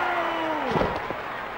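A wrestling video game's arena crowd roars and cheers steadily throughout, with a brief thud mixed into the sustained noise.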